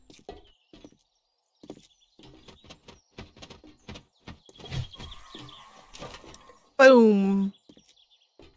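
A bird call in a video game sounds as one brief, clear, descending chirp near the end, after scattered clicks, thumps and a short spoken word.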